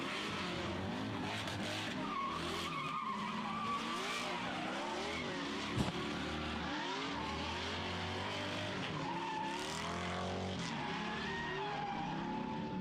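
A D-Spec BMW race car spins and skids off the track, tyres scrubbing and squealing over a continuous engine roar, loud and sustained throughout.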